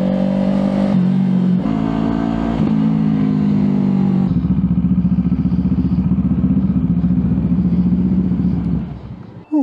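A CFMoto 700 CL-X Heritage motorcycle being ridden, a steady loud engine drone with gear-change shifts in pitch, then easing off at the end.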